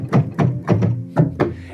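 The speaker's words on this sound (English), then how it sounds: "we also know what an electric piano sounds like when you don't plug it in" An unplugged electric piano's mechanical keys give six dull, close thunks in an uneven rhythm, each a short knock with a soft low body and no sustained tone.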